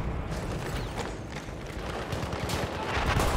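A mounted gun fires in the World War I shooter Battlefield 1, with rapid bursts of automatic fire layered over a dense, rumbling battlefield din, steady and fairly loud throughout.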